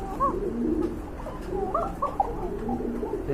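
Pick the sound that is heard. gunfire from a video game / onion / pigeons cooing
pigeons cooing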